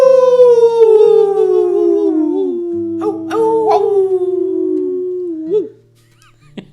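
A man imitates a wolf with a long, loud falling howl that slides down in pitch over several seconds, followed by a couple of short yelps before quiet.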